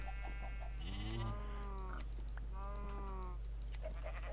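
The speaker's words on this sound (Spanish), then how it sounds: "Y ahora a pelar un poco a las ovejas." Sheep bleat in a video game as they are sheared for wool, a couple of drawn-out wavering calls over a steady low game hum, fairly quiet.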